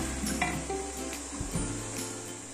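Rice and meat pieces for restaurant-style mandhi sizzle and fry in a pan as they are turned over, giving a continuous close hiss broken by a few soft scraping stirs.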